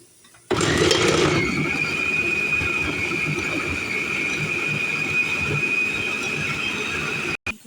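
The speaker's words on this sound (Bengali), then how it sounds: "এটা ব্লেন্ডার করব।" Electric kitchen blender whirring through tomatoes and green chili, a loud steady motor drone with a high whine that starts abruptly, runs for several seconds and cuts out briefly near the end.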